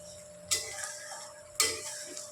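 Spice paste for egg curry being stirred and fried in a pan, heard as two distinct scraping strokes about a second apart over a faint steady hum, fairly quiet and close, with no talking.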